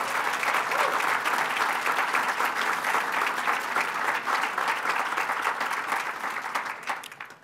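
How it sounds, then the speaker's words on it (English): Audience applause at a sports awards ceremony, a full round of steady clapping that holds loud and even before tapering off at the end, with no talking over it. "So please give them a round of applause."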